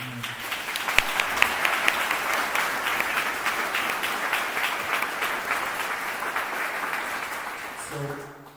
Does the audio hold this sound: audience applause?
yes